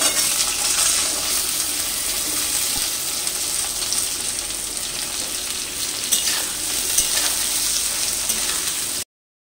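Potatoes frying in hot oil with mustard seeds, whole cumin, a dried red chilli and bay leaves, a steady loud close sizzle with occasional stirring scrapes, no talk.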